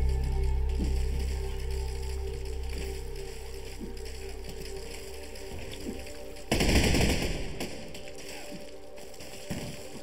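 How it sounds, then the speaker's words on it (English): Artillery fire in the Besiege siege-engine game: a steady rattling mechanical din, then one sudden loud blast of gunfire that fades over a few seconds, with no one speaking. "there's the artillery"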